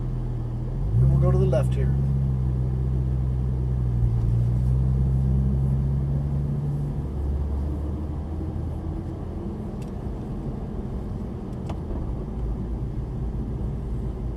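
A Porsche GT3 pulls out onto the Las Vegas Motor Speedway track, its engine note rising steadily under an instructor's steady talk, then settling into a low rumbling drone.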